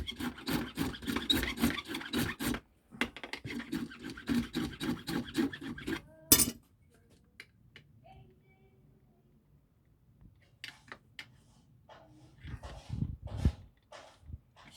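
A worn tool rubs back and forth along the frets of a vintage Japanese Greco Stratocaster to level them, a close, steady rasping that stops abruptly midway, followed by quieter scattered scrapes and handling noise.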